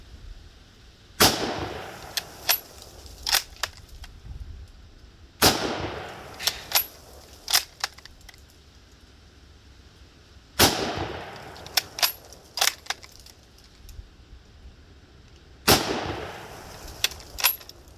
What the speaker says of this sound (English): So we'll put some rounds through it first real quick.